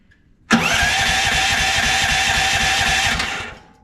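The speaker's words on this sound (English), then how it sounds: "All right, let's get this thing fired up." An AGROTK H12 mini excavator engine cranks and fires at quarter throttle without choke, then runs with a loud, steady mechanical clatter for about two and a half seconds before dying away.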